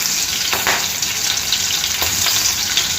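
Dry red chillies frying in oil for methi yogurt chutney, a loud close continuous sizzle with a few soft scraping stirs and no voices.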